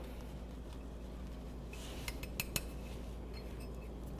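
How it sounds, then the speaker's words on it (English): Basil cream sauce with Parmesan and pepper being stirred in a pan: a brief cluster of light metallic clinks and taps from a utensil against the pan near the middle, over a steady low hum of kitchen background. "So give that a stir."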